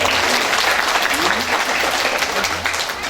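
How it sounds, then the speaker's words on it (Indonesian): A theatre audience at a Balinese drama gong performance claps in a dense burst of applause that runs the whole time, with a voice talking underneath. "Tepuk tangan nunggu tidak nih."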